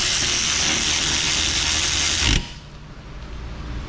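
Ratchet wrench clicking steadily while tightening bolts on the brake of a Toyota Sienna 3.5 minivan, loud and close, the continuous clatter stopping abruptly partway through and leaving quieter background noise.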